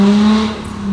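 A diesel-swapped Nissan GTR's engine holds a loud, steady droning note from inside the car while driving, with a slight dip in level partway through and no talking over it.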